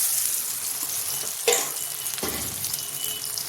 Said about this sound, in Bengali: তো এখানে আমার সব ছোলা ভাজানো হয়ে গেছে।